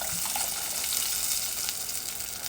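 Clam juice hitting a hot pan of chopped crab, a steady loud sizzle and hiss that runs unbroken from start to finish.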